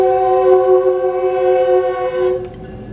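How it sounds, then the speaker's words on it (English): A train passes near a road crossing, its loud horn holding a steady, multi-tone blare for about three seconds against a rumbling background with no speech. "You wanna see the train?"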